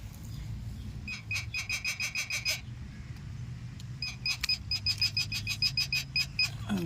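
A handheld metal detector sweeps over ground in a small forest, giving rapid trains of bright electronic beeps in two bursts separated by a short pause, loud against quiet outdoor background.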